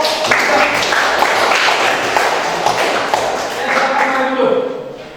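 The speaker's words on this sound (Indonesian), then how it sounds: "tepuk tangan buat kelompok" A classroom audience claps for a presenting group, with scattered, uneven hand claps and taps continuing for several seconds amid light shuffling and murmur.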